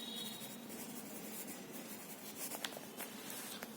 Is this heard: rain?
no